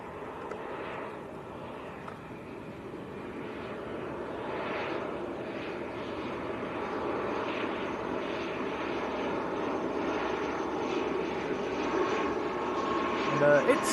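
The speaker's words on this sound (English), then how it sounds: "Next to land, this is Aer Lingus from Dublin, ATR 72." Aer Lingus ATR 72 turboprop from Dublin landing at Manchester airport, a broad steady engine roar building gradually and heard from a distance, with faint background noise throughout.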